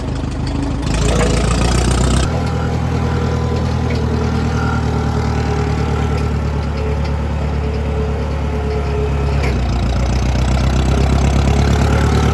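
Forklift engine running steadily while driving down a road, a loud, close, continuous mechanical drone with a brief change in tone near the start and again near the end.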